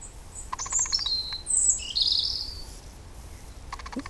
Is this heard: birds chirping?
yes